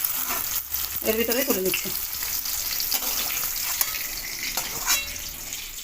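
Onion and capsicum sizzle in oil in a wok as they are stirred and lifted out, a continuous crackling fry with utensil scrapes, while a voice speaks briefly over it.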